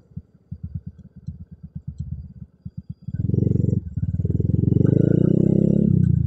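A bore-up 147cc motorcycle engine with standard exhaust, valves and carburetor thumps in slow, even idle pulses, then revs up loud and steady for the last few seconds, close by.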